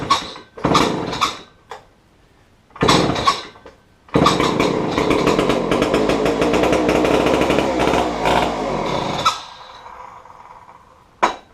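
Homelite C-51 chainsaw engine with a squeaking pull-cord starter, coughing in a few short bursts before catching and running loud and steady for several seconds, then cutting out.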